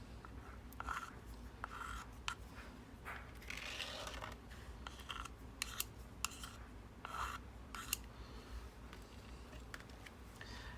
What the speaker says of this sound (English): I'm going to scrape the excess back off in the jar.